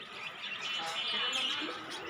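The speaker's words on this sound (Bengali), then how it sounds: "তারপর এখানে আরও কিছু পাখি আছে" In a bird shop, many small birds chirp and tweet together in a steady, busy chorus, fairly soft and continuous.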